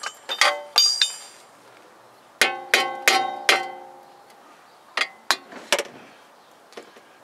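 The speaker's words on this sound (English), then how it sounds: "So, I can tap this through here a little bit." A screw is tapped out of a VW Passat upper control arm with sharp, ringing metallic strikes, which come in irregular bursts of single and double hits with short decaying rings and brief pauses between them.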